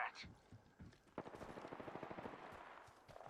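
Rapid automatic gunfire in the Apex Legends battle royale game, a sustained burst of close, sharp shots after a few scattered single pops, with faint voices underneath.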